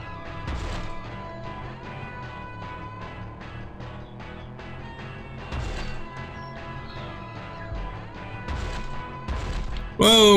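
Repeated crash and smash impacts from a car in an N64 racing video game, loud and frequent throughout over steady game music and engine noise, with brief talk.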